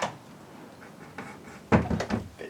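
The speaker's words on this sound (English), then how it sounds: "Just going to shut the door." A garage door swings shut with a soft knock and then a heavier thud near the end, close by and with no talking.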